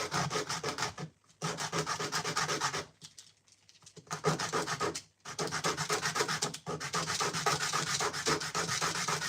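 Skateboard deck being sanded in a workshop: repeated rapid back-and-forth scratchy rubbing strokes, loud and close, in several bursts broken by brief pauses.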